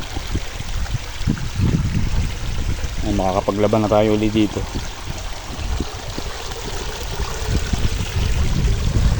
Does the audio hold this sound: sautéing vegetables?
no